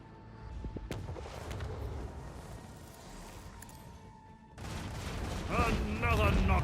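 Macro cannon fire in the Warhammer 40k Rogue Trader video game rumbles as layered booms and crackling blasts, building louder toward the end, with game sounds filling the background.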